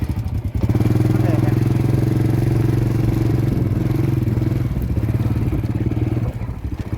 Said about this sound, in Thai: เดี๋ยวเอารถเข้าโฮมก่อน